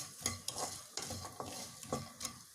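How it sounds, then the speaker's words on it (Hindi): Ragi flakes and grated coconut are roasted in a pan, with a spoon stirring them in repeated close scraping strokes about every half second over a soft, dry sizzle and no speech. "चला देंगे हम इसको अच्छे से, थोड़ा सा रोस्ट करेंगे इसको कुछ सेकंड तक"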